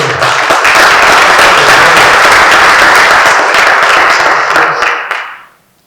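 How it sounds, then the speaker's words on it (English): Loud, sustained applause from a large audience, steady for about five seconds before quickly fading out. "How about a round of applause for Chris"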